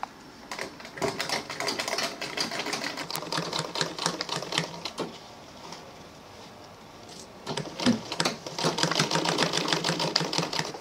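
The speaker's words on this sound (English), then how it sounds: "I will now sew the zip to this other side round." A sewing machine stitching a zipper onto an Ankara fabric handbag, running in rapid mechanical bursts with a short pause midway before starting again; close, moderately quiet, no talking.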